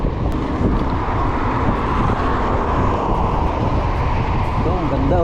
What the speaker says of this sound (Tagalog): Headwind ngayon, headwind.